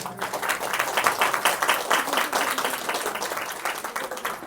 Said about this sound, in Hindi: नहीं ताली बजानी तो एक साथ सारे बजा